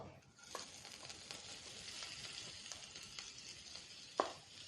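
A Kerala thoran mix of wild amaranth greens meets hot oil with dried red chillies, and a continuous quiet sizzle follows with light stirring and one sharper utensil clink near the end.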